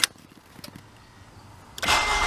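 A 2012 Scion tC cranks and fires with a key turn after a few faint clicks, breaking into a loud, sustained engine roar near the end.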